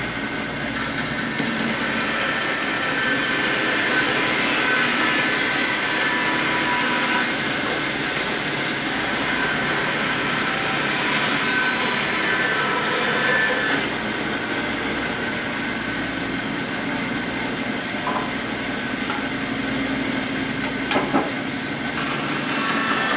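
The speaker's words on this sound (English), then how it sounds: "run through the planer this way, and then this way, and I'll have a perfectly square block that's milled" A wood planer mills a white oak block with a steady, loud, broadband machine roar that continues unbroken throughout, close up and with no talking.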